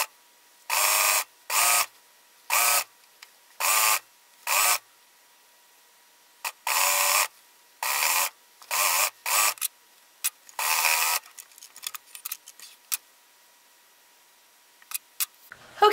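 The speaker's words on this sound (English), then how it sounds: "we're just going to fold it to the wrong side as we sew" A sewing machine stitches a folded T-shirt neckline edge. It runs in short, loud, close bursts of rapid whirring, separated by pauses, and ends in scattered brief ticks and clicks.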